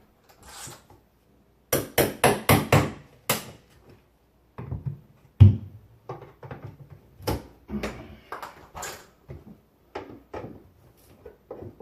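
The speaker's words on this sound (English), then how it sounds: "And that's how you remove the trim" Window trim being pried off and knocked loose with a hammer during a window repair, giving a quick series of sharp wooden knocks and clacks, then scattered lighter taps and rattles, close up and with no talking.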